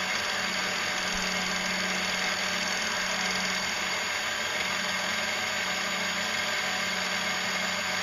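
Motor of an ultralight solar speedboat running on test in high gear at about 2,900 RPM, unlubricated, giving a steady mid-pitched hum with a faint vibrating buzz that holds constant throughout, close and without talk.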